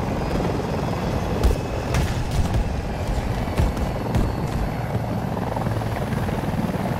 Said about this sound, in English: That's an enemy VTOL.